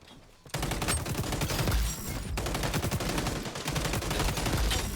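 Rapid automatic gunfire in the shooter game XDefiant, loud dense bursts of shots rattling almost continuously after a short quiet start, with no recoil pauses and brief gaps between volleys.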